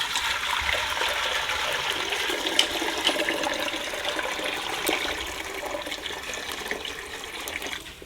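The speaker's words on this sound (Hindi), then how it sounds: "पतीला हमने चढ़ा दिया है, इस पर डालेंगे हम इसमें पानी" Water pours steadily into a cooking pot set over the fire while preparing dal chana mangochiya, a close, continuous splashing gush lasting several seconds with no talk over it.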